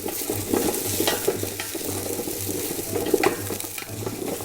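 Onions sizzle steadily in a hot pan, a close, continuous crackling fry with occasional stirring scrapes and no voices.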